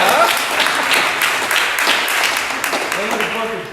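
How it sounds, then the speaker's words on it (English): A seated audience at a real estate investment talk breaks into a short round of applause, dense clapping that fades slightly toward the end while a voice comes in faintly underneath. "Give me a round of applause."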